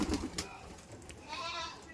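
Fancy pigeons coo softly in a village pigeon loft, a few low, muffled calls near the start over quiet background hiss.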